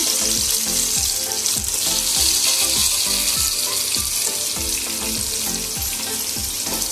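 Onion and tomato for prawn biryani fry in hot oil with a loud, continuous sizzle, punctuated by repeated scraping stirs of a spoon in the pan.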